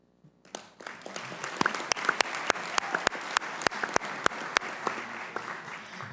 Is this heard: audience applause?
yes